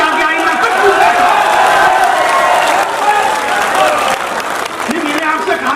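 Audience at a Hindi poetry recital (kavi sammelan) applauding steadily and loudly, a dense wash of clapping with crowd murmur that carries on for several seconds.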